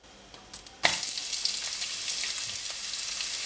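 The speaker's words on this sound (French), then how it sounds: "et mettez des oignons dedans." Onions hit hot olive and sunflower oil over high heat, sparking a sudden loud, hissing sizzle after a brief quiet start, then a steady close-up frying crackle.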